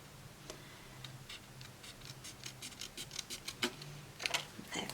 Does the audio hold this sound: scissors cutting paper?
yes